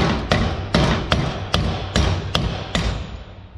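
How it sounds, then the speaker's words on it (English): Seven sharp metallic hammer blows on a driveshaft center support bearing, struck at a steady pace, close and loud, each ringing briefly before the next. "let's get a hammer and get set up to remove a carrier bearing"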